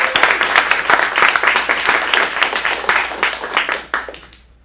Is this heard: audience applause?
yes